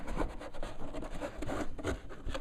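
Soft rubbing and scraping as a trunk liner is pressed and tucked along the seams of a Victory Vision motorcycle trunk lid, a steady close-up friction texture with short repeated strokes.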